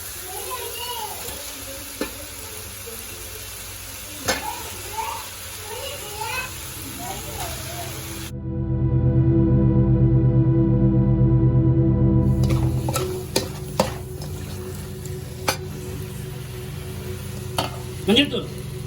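Chicken drops into a pan of softened tomatoes with a loud, sustained sizzle lasting several seconds, framed by background children's voices, talk and clatter before and after.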